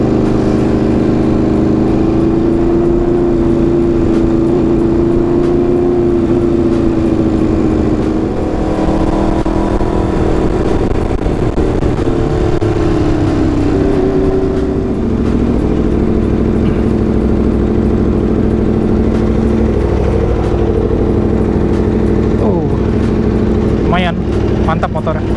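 An Aprilia RSV4 RF motorcycle engine runs close by, a loud, constant droning rumble with slow pitch swells and dips, while people talk over it.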